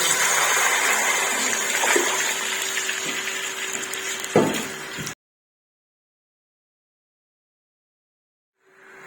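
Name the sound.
pouring five glasses of water into cooking pot for kabsa rice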